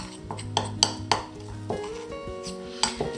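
A spoon mixes wood glue into homemade wood filler, giving a few close, distinct clinks and taps against the container between quieter scraping stirs.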